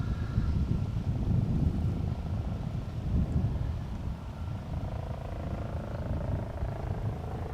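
Aircraft circling near Schiphol's Polderbaan runway, a steady low engine rumble at moderate distance with wind buffeting the microphone, swelling and easing slightly throughout.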